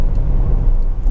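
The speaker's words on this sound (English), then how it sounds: "the engine pulls really, really nicely" Renault Clio 1.6 VVT Initiale engine droning while driving, a steady low rumble with road noise heard from inside the car.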